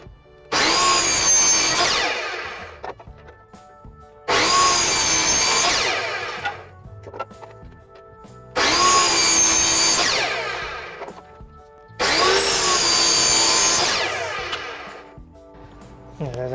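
Four long bursts of a power saw cutting through wood for a painting frame, each a loud whining buzz lasting a few seconds, separated by short pauses with faint hum.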